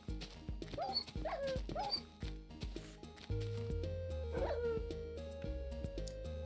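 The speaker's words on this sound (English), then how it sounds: "this dog's about to die." A dog in the Minecraft video game whimpers and yips in short, high, repeated cries over steady synthetic background music.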